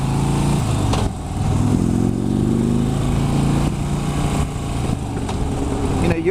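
A Harley-Davidson motorcycle runs up through the gears and back down, its engine note rising and falling with each shift, close and loud with no talk over it.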